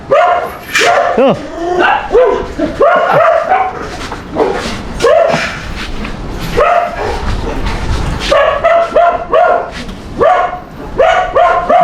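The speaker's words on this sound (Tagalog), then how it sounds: "Ang ingay naman ang aso." A dog barks repeatedly and loudly nearby in sharp bursts with short yips and whimpers between, while voices speak intermittently in the background.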